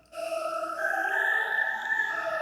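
Sustained choir-style sample from a homemade Rain Choir sample library with a phaser effect switched on: one held, breathy, vowel-like tone whose upper overtones slowly sweep and whoosh, steady and close.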